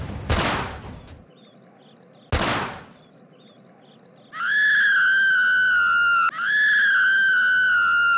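Two sharp cartoon gunshot bursts from an animated scene, each a loud crack with a brief decaying tail, followed by a steady high whistling tone that runs to the end.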